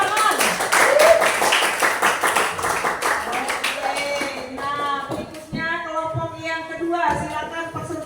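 A classroom of students clapping for a group's discussion presentation, a quick burst of many hands in the first few seconds that fades out as voices and other sounds take over.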